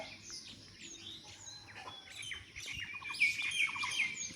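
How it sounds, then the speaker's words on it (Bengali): Several birds chirp and twitter repeatedly at a distance around a rooftop garden, high bright calls overlapping against a quiet outdoor background. "আর পাখি ডাকতেছে কত সুন্দর করে"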